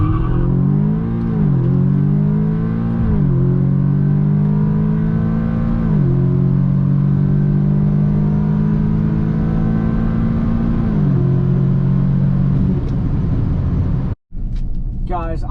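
A Stage 2 tuned Audi S3 accelerating hard down a quarter-mile drag strip, its engine loud and close as revs climb and drop through several gear shifts before cutting off abruptly near the end.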